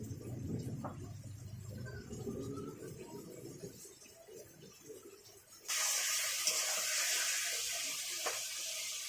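Water pours steadily over cumin and coriander powder in a bowl, first a low gurgling splash, then a bright, loud hissing spray that runs to the end.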